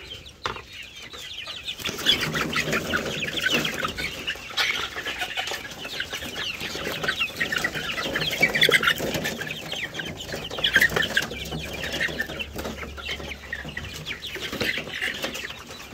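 Hungry chicks and chickens on a Philippine farm, a dense continuous chorus of peeping and clucking birds, some nearer calls rising above the crowd, steady throughout without talk.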